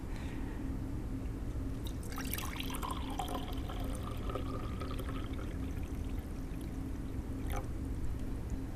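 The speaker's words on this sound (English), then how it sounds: "now I'm going to fill it with water" Water trickles steadily into a glass over a penny, a soft continuous pouring splash, faint and close, with no talking.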